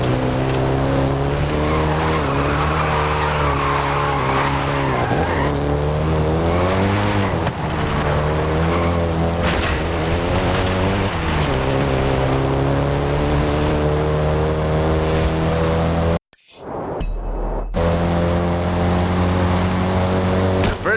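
In the Forza Horizon 5 racing game, a Volkswagen Golf GTI engine revs loud and close, the pitch climbing and dropping through gear changes, with tire squeal and one brief dropout near the end.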